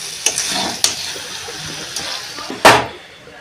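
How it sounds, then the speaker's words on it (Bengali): Hot water poured into a pot of young jackfruit curry (vegetarian dalna): a few light clinks over a low background, then a short, loud gushing splash near the end. "জলটা আমি দিয়ে দিচ্ছি আর একটু সিদ্ধ হবে"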